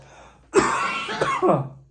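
A single close, throaty clearing of the throat, a rough burst followed by two shorter rasping pushes, then quiet.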